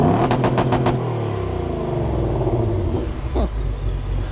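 A Ford Mustang GT's powerful engine in race mode rumbles loudly at idle with a quick rev midway, close up, with a few clicks at the start.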